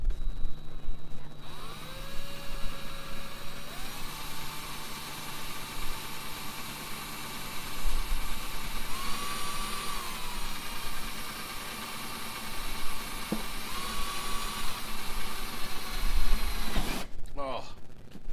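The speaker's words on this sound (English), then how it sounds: "Now I'm just going to drill right through the pan." A power drill bores through a metal griddle pan, a steady whining motor drone held for many seconds, rising and shifting in pitch as the bit works, ending with a short clatter.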